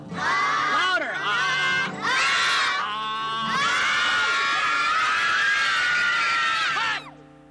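Children yell and scream loudly together in a street scene, several long sustained shouts with short gaps between them, close and energetic.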